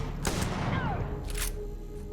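An enemy firing a weapon in the Starfield video game, with two sharp bursts of shots about a second apart and a whooshing energy effect between them, over a low steady hum.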